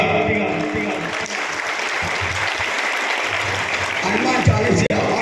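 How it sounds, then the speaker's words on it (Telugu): A crowd at a Hanuman Chalisa recitation gathering claps loudly and continuously, a dense, sustained wash of applause filling the whole stretch with voices mixed in. "అందరూ చప్పట్లు కొడుతూ గట్టిగా"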